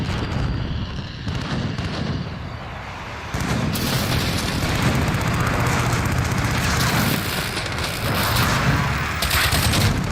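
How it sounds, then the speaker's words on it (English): Precision airstrike in Call of Duty Modern Warfare, a loud, sustained barrage of booming explosions and gunfire rolling continuously after a brief quieter stretch, dense and close. "Enemy precision airstrike inbound."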